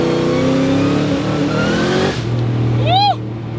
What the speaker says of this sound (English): it makes some of the best downshift sounds you could ever imagine when you rev match this thing.